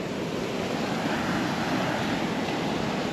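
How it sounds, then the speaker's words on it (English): Rough sea waves along a Jamaican fishing coast make a continuous loud wash of surf, mixed with gusting wind against the microphone. "Rough waters."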